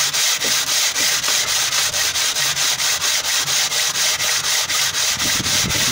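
A Morris Minor cylinder head is rubbed back and forth on sandpaper, a loud, close abrasive scrubbing repeated in a fast, even rhythm of about three strokes per second.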